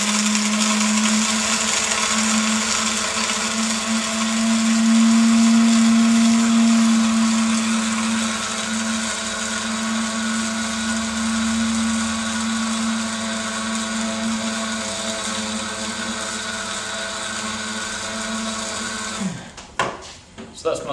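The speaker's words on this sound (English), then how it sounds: "we're going to grind in this grinder for 20 seconds" An electric coffee grinder whirs steadily through coffee beans for about twenty seconds, a loud continuous motor drone that cuts out abruptly near the end, followed by a few brief knocks.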